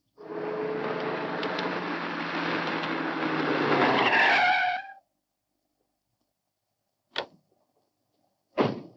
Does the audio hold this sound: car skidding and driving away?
yes